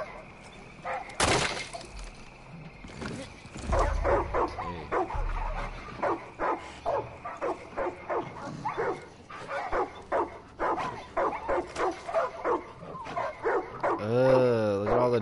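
Dogs in the game Far Cry 5 barking in a rapid run of yaps and whimpers, preceded by a sharp crash near the start and ending on a drawn-out whine.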